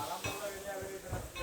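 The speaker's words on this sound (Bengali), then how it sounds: "দেখেন কিভাবে ফ্রাই করে।" Hilsa fish frying in pure mustard oil on a large tawa at a Mawa Ghat riverside stall, a faint soft sizzle with a few light clinks of utensils.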